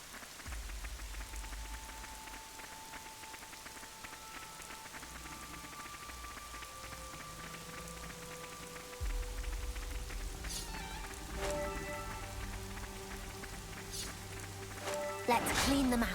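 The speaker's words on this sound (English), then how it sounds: "Oh, it's raining now." Steady rainfall in the video game Xenoblade Chronicles 3, a soft continuous patter at low level under occasional game tones and effects, with a person talking over it.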